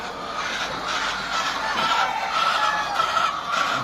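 Chickens on a poultry farm cluck steadily in a dense, continuous flock chorus, close and fairly loud throughout, with no talking.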